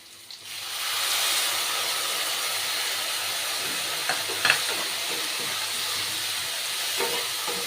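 Tomato and green chili paste sautéing in a pan makes a loud, continuous sizzle with steamy hiss and a few stirring clinks, close and without talk.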